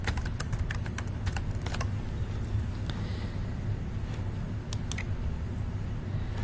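Rapid keystrokes on a computer keyboard while entering an ingredient search, a steady run of close, crisp clicks over constant background noise.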